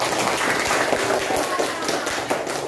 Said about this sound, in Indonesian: Kiri kita berikan aplaus bersama-sama.